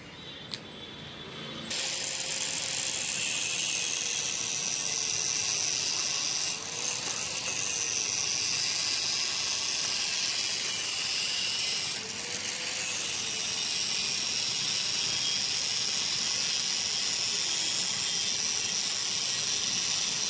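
A powered cutter saws steadily through a metal tube for a two-wheeler handlebar, giving a loud, continuous grinding whine with slight pitch dips as the blade bites. It begins abruptly after a short quiet start. There is no speech.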